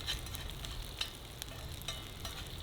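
Onions piled in the middle of a single pan sizzle steadily over full heat at a camp cooking setup, a continuous close frying hiss with a few light scrape or tap accents and no talking.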